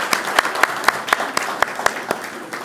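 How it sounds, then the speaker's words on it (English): A small dinner audience at a Knights of Columbus civic night applauds the priest with slow, evenly spaced, unison claps, about ten distinct loud beats over a low murmur of the room. "It's okay to applaud our Father."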